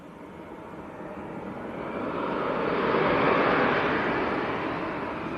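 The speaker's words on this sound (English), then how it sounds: "I think this could be the A321 then of Jet2" A Jet2 Airbus A321 arrives at Leeds Bradford Airport, its engines a broad, steady roar that swells louder as the jet passes close by, then eases slightly.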